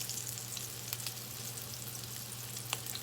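Salmon patties fry in a pan with a soft, steady sizzle, faint and close, with a few small pops and crackles and no talking.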